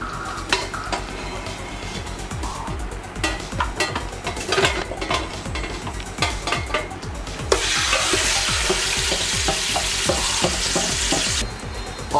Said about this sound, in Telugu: ఆయిల్ హీట్ ఎక్కిన బాణీలోనే మనం ఈ దమ్ము మొత్తాన్ని వేసుకొని బాగా కొంచెంసేపు ఉడికించుకుందాం.